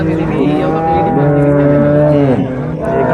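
Cattle at the Dabwali livestock market lowing loudly and close by, a long moo with rising and falling pitch that fills the clip, set against steady crowd noise.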